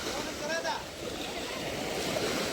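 Sea waves wash in at Uran beach near Mumbai, a continuous rushing surf mixed with wind buffeting, steady and fairly close, with faint voices in the background.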